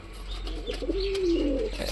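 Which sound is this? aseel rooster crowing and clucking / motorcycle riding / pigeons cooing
pigeons cooing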